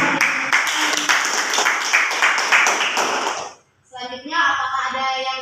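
Classmates clap together in a classroom, a few seconds of fairly loud, rhythmic group clapping that stops abruptly, followed by a brief pause and then a voice speaking.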